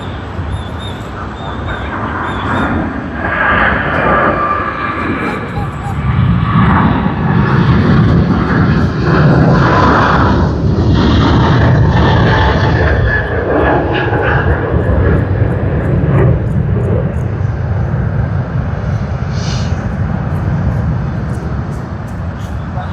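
An Asiana OZ 602 jet in Star Alliance livery at Sydney makes a loud engine roar that builds over the first seconds, holds strong through the middle, then eases slightly.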